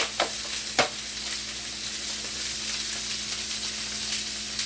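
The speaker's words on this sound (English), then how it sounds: "I'm going to go ahead and add that rosemary sprig to the pan as well." A rosemary sprig hits a hot pan with butter while beef filet cooks, giving a steady, close sizzle with two sharp crackles early on and an even fry throughout.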